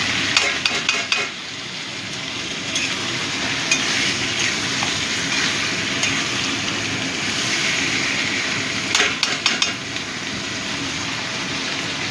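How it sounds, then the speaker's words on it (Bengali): Minced mutton fries in a hot pan for a keema curry, giving a steady loud crackling sizzle throughout, with a few sharp clicks of a spoon against the pan near the start and again later. "কিমাটা দিয়েও ভালো করে একটু ভেজে নেব।"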